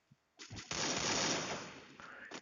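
Gunfire in a battle royale video game during a league match: a brief, dense burst of rapid shots that rises sharply, holds for about a second, then tails off, fairly close, with no talking.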